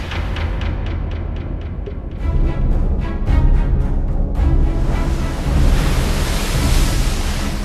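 Ocean waves churn and surge as a pod of orcas drives a coordinated wave attack, with loud broadband rushing water and splashes that build into a sustained roar, rough with wind noise.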